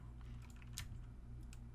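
Quiet clicking of keys on a computer keyboard, typed with a band-aid on one finger, a few scattered taps over a low steady hum.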